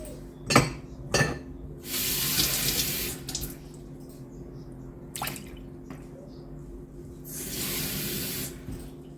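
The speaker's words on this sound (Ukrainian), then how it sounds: "Тепер можна додати ще води." Water pours in two steady bursts into a pot of Ukrainian stuffed cabbage rolls, with a few clinks and knocks of cookware between them. No one speaks.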